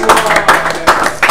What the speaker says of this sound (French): Si on peut l'applaudir aussi.